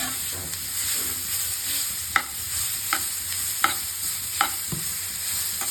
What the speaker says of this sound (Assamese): ইয়াতে বিটখিনি দি দিব লাগিব আৰু অকমান সময় লৰাই